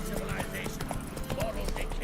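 Horse Roach galloping in The Witcher 3, a quick run of clopping hoofbeats in steady rhythm under a low rumble, with speech over it.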